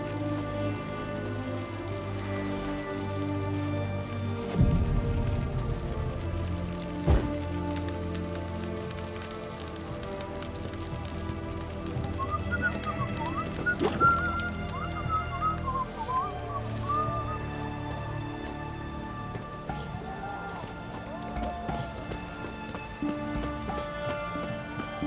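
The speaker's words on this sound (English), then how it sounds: "It's raining" Steady rain patters across the landscape of The Witcher 3, a soft continuous hiss with occasional drips and faint background whistling, no talking over it.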